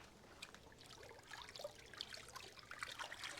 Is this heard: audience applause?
no